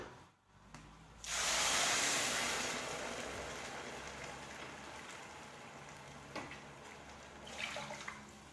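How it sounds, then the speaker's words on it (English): After a brief pause, four cups of water pour steadily and noisily into a cooking pot for rasgulla, the rushing stream gradually easing, with a few faint knocks near the end. "to this I am going to add 4 cups of water in the same cup measurement"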